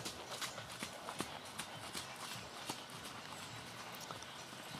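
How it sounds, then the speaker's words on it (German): Horse hooves clip-clop in a steady rhythm on arena footing as a horse is ridden on a circle during a riding lesson, moderately near and alone without talk. "Auf dem Zirkel geritten."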